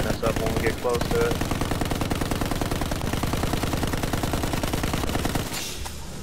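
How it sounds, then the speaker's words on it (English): A bomber gunner's machine gun in Battlefield 1 firing a long, rapid, steady burst of loud close shots that runs for several seconds, with a faint voice briefly under it at the start. "the gunner's out of that bomber tearing us up when we get close to it"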